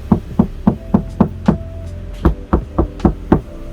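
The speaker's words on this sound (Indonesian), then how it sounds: "Diketuk-ketuk sudah beda." Knocks on a door lined with lightweight sound-damping material: about ten dull, muffled thuds in a steady rhythm with a short pause midway, close and fairly loud, no talking.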